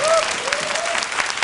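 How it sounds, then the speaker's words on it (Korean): An audience at a media artist's talk claps in a short burst, with a voice trailing off over the start of the clapping. "박수 안 치십니까?"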